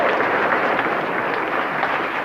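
Congregation applause in a church, a dense burst of many people clapping together, loud and continuous for a couple of seconds.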